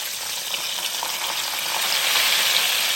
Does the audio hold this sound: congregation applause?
no